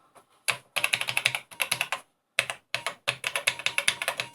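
Keys on an Atari 800XL computer keyboard pressed rapidly during the self-test, giving clustered bursts of crisp clicking and clacking with brief pauses between runs, close and fairly loud with no voices.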